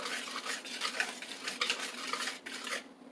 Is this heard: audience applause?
no